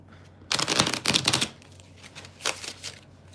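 A tarot card deck is shuffled by hand, close riffling bursts of crisp card flicks, a longer run followed by a brief second flurry, with no talking.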